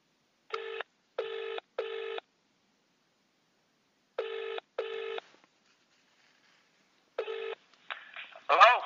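Telephone keypad DTMF tones after a dropped call, in three separate bursts of short, evenly spaced beeps with pauses between, followed by a brief bit of talk at the end.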